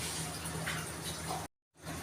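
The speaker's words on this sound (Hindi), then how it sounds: "पानी ऐड कर रहे हैं चावलों के हिसाब से।" Water pours into a cooking pot of rice for chicken yakhni pulao, a soft steady splashing hiss, quiet and close, that briefly cuts out before resuming.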